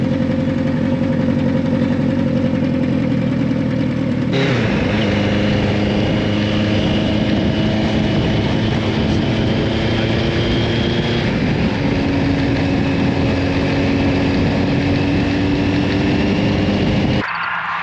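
A 40-year-old motorcycle engine runs steadily and loud for the whole stretch, a continuous throbbing drone with a shift in pitch partway through, no talking.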